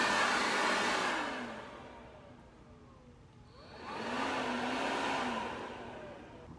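A Greenworks 40V cordless leaf blower whirs in two bursts, each swelling to a strong airy rush and then easing off, with a quieter gap between them.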